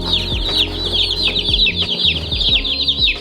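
A young Polish chicken, a fuzzy crested chick a few days old, gives rapid high cheeps and soft clucks close by, repeating steadily with a few low thumps underneath and no voices.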